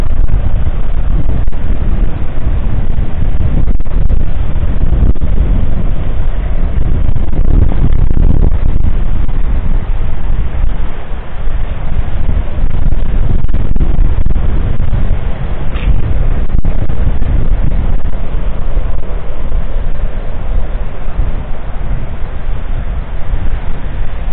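Steady, loud wind buffeting the microphone by the sea at Casiguran, Aurora, a dense low roar with rumbling gusts that continues without a break from start to finish, with no voices.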